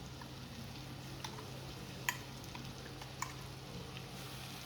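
Brinjal being stirred with ground masala in hot oil, a steady low sizzle with a few faint clicks of a spoon against the pan.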